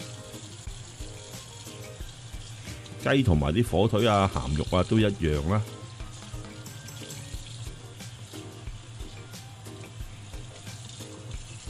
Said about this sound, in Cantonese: 跟手就揾啲凍水沖一沖翻乾淨佢表面啦。